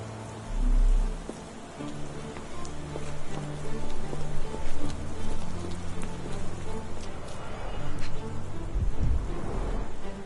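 Steady rainfall in the video game Sherlock Holmes The Awakened, a continuous hiss of drops with faint low rumbles and background game tones, moderately loud throughout.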